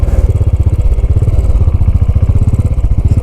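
A loud, steady Royal Enfield 535 Continental GT engine thrumming with a fast, even pulse while riding, close up and continuous throughout.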